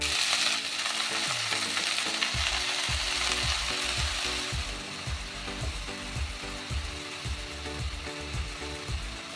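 Chopped red amaranth leaves hit hot oil with a loud, steady sizzle and crackle that lasts throughout, with repeated scraping and stirring knocks against the pan and no talking.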